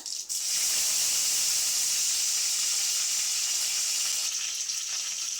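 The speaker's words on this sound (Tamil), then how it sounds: "எண்ணெய் சூடாயிடுச்சு கடுகு உளுத்தம் பருப்பு சீரகம் ஆட் பண்ணிக்கிறேன்" Continuous bright sizzling of mustard seeds frying in hot oil, a loud steady hiss close by that holds throughout.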